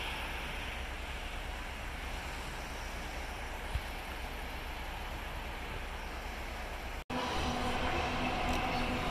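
A train rumbles past through a small tunnel at Albert Canyon, British Columbia, a steady, broad roar throughout, with a brief dropout near the end.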